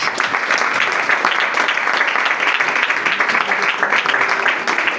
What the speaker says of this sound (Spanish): Más fuerte para Jesús ese aplauso.